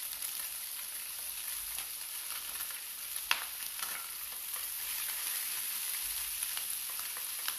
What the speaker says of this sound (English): I'm going to fry this up a little bit.